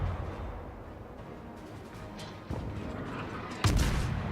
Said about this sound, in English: Looks like the bullets are ricocheting, so not doing any damage.